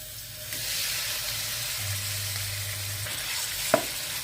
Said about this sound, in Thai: แล้วก็ผัดหมูบดให้สุก